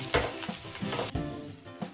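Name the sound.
cumin, ginger and garlic sizzling in oil in a pan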